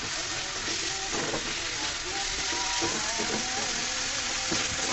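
Chicken meat fries in oil in a pan, a dense, steady sizzle with occasional stirring scrapes, close and continuous with no talk.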